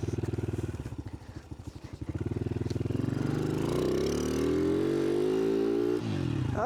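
A powerful dirt bike engine chugs at low revs, then climbs into a rising, sustained rev as the rider pulls away across snowy woods, close and loud, briefly dipping near the end.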